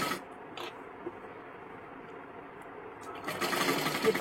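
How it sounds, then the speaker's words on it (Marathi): A sewing machine runs softly as a sleeve is double stitched, its low steady hum rising into a louder, brighter burst near the end. "बाहीला डबल शिलाई मारून घ्यायची आहे"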